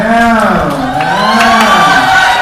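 A loud crowd at a Muay Thai boxing event cheers and whoops together, many voices rising and falling in a sustained, excited roar close by.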